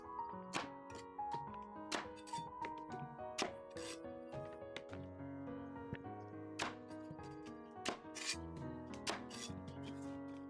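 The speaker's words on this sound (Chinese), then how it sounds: "再给它剁成长段。" A knife chops a washed, trimmed white radish into long pieces on a cutting board, giving sharp, evenly spaced thunks roughly once a second over soft background music.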